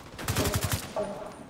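Rapid automatic gunfire in The Division 2 during a library firefight, a burst of about six quick shots in even rhythm, loud and close, followed by a short fainter tail.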